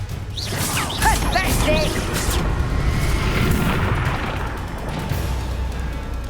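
A Confringo fire-blast spell detonating in Hogwarts Legacy, a loud booming burst with crackling debris and rumble, amid combat effects while a voice shouts briefly over it.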